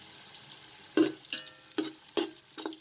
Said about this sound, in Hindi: साबुत गरम मसाला भी शामिल कर दें और 1 टेबलस्पून सफ़ेद ज़ीरा शामिल कर दें